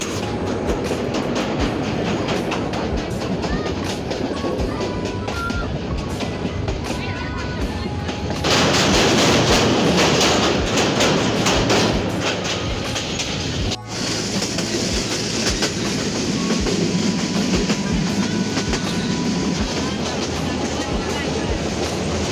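A passenger train runs from Ghorashal to Tongi in Bangladesh, heard from on board: a steady, close rumble and rattle of wheels and carriages, with a louder, rougher stretch midway before settling back into the continuous roll.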